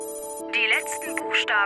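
A phone rings in the video game Heavy Rain, a bright electronic melodic ring tone that repeats in short bursts over a steady background tone, fairly loud and close.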